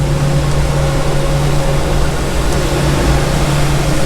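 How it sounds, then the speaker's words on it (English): Steady loud mechanical roar of a road sweeper, a broad whooshing rumble with a constant hum that fills the whole stretch without pause. "We've got a road sweeper going past now."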